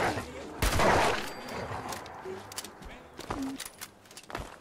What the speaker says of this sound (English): do you hear the gunshots?